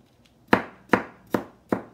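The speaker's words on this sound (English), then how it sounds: "That's probably the hardest part of making the apple pie is peeling and chopping all of the apples" Apple being chopped on a cutting board for apple pie, four sharp evenly spaced knife chops about half a second apart, close and crisp with no talk.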